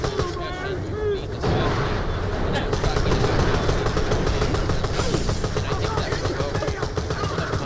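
Sustained rapid gunfire and heavy weapon blasts in the video game Borderlands: The Pre-Sequel, a dense continuous barrage with sharp repeated reports, while a person talks over it.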